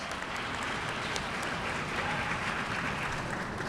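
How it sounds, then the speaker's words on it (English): An audience at a press conference claps in a soft, steady, even patter that carries on alone, sounding somewhat distant and low in level. "a nice applause."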